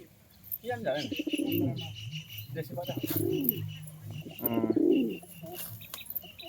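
Andhra pigeons coo nearby in three drawn-out, rising-and-falling phrases spaced a second or two apart, with faint chirps and a little background noise between.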